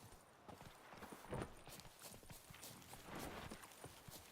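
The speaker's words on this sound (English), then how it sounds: "I know how to summon my horse." A horse's hooves clip-clop in a steady walking rhythm in the video game Witcher 3, fairly quiet and close.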